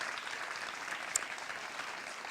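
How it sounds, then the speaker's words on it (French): Audience applauding at a graduation ceremony for apprenticeship students, a steady, moderately faint patter of many hands clapping in a hall, with one brief sharp click midway. "Merci de venir sous vos applaudissements."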